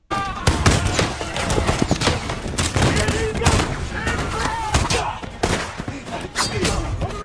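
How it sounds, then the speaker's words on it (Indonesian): Troops firing rifles from a trench in a film battle scene make dense, continuous gunfire: rapid overlapping cracks and thuds, loud and close, with a din of battle underneath. "Tembakan mereka menjadi cukup akurat karena jarak musuh telah dekat dari ujung senapannya."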